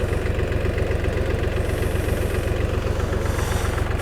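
Tractor engine labouring under load while driving a rotary tiller through spring soil, a loud, steady low diesel throb with rapid even firing pulses and mechanical rattle, close and continuous.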